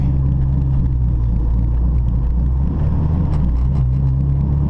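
A modded 1992 Honda Civic hatchback spins its tires on wet pavement, a loud, steady engine rumble with heavy low-end drone running continuously close by.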